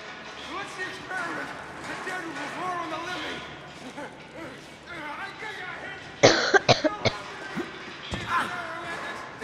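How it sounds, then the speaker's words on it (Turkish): Several sharp coughs burst out in a quick cluster midway through, close and loud, breaking up steady talking before and after. "nedense her videomda da öksürüyorum ha."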